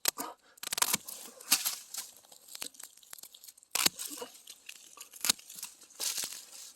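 Hand pruning shears snip through Japanese angelica tree branches outdoors, giving a series of sharp, irregular crunching cuts and crackles, close to the ear with quiet pauses between.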